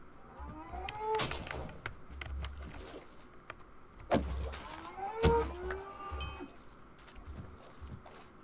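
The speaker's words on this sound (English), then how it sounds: "All these cows! There's too many cows!" Minecraft cows moo repeatedly in a game world, several low drawn-out moos spaced a few seconds apart over quiet background noise, fairly faint.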